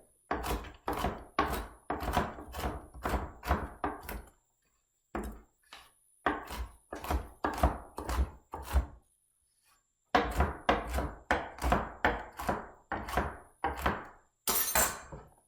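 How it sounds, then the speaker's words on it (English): A chef knife chops food on a board in quick runs of sharp rhythmic thunks, about a dozen strokes per burst, separated by brief pauses, close and crisp with no talking. "I just put my other hand on top and I can chop things quickly and easily."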